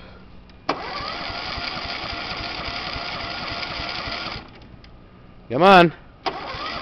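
A John Deere 14SE self-propelled lawn mower engine is pull-started, cranks and runs for about four seconds, then cuts out. A short spoken exclamation follows, and a brief final restart attempt is heard.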